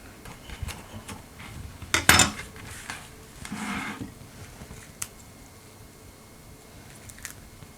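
Serving spoon scraping and clinking against a pan while chickpea and butternut squash curry is dished up, with a sharp metallic clatter early, soft squelchy scooping, and scattered light taps.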